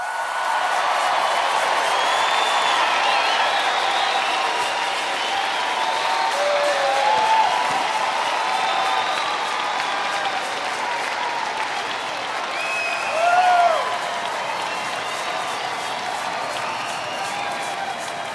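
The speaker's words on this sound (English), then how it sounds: "Let us give all our graduates one more round of applause." Sustained applause from the audience at a 2023 Utah Valley University commencement ceremony honoring graduates, a dense steady wash of clapping with occasional cheers and whistles rising briefly near the end.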